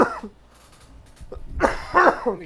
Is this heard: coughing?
yes